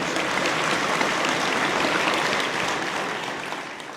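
Audience applause at an agricultural hall of fame ceremony in Quebec, honouring bronze-category partners: dense, steady clapping from a large crowd that fills the whole stretch and tapers slightly toward the end.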